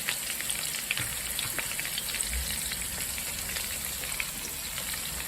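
Peppers and onions frying together in a pan, a steady close sizzle and crackle with occasional stirring bumps throughout, no talking.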